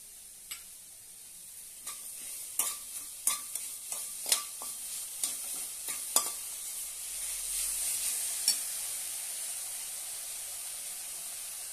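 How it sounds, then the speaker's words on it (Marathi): Sugar being stirred into bottle gourd kheer in a pan, a spoon scraping and knocking against the metal in a run of sharp, close clicks over a soft, steady hiss, with no voices. "आता यामध्ये आपण साखर घालूया।"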